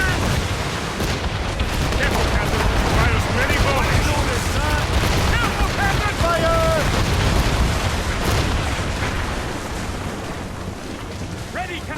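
Mortar and cannon fire thunders continuously in an Assassin's Creed Rogue naval battle, dense overlapping blasts over wind and sea noise, with voices shouting amid the barrage.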